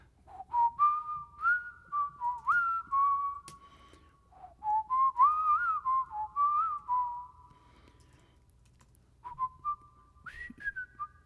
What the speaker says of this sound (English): it's that reverb makes the whistling sounds